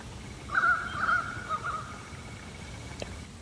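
A lone bird gives one drawn-out, harsh call on a quiet creek in a Sydney national park, faint against soft background hiss, followed by stillness.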